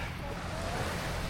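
Calm sea waves wash gently at the shore in a steady, soft broadband wash with light wind noise, quiet and continuous throughout.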